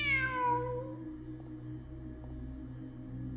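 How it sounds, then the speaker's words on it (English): A single cat meow from the video game Genshin Impact rises and falls near the start, then steady game music and ambience continue alone. "Look! A cat!"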